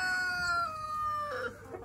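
A short rooster-like crow with drawn-out tonal calls from nearby chickens cooped up on a snowy farm, fairly loud, with no talking.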